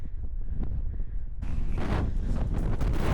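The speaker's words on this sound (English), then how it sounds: "This wind has just really picked up" Strong wind gusting outdoors on a solo hike, a steady broadband rush that suddenly grows louder and rougher about halfway through, buffeting close to the microphone with no voices.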